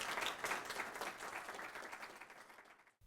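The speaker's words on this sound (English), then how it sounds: "I will give Mr. Rush a big round of applause" A room full of people gives Marvin Rush a warm round of applause after his talk, dense clapping that gradually thins and fades before cutting off.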